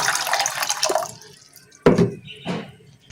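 Water poured into a pot as the first step of making tulsi and mint tea, a near splashing pour that stops, followed by two short bursts of pouring or dripping.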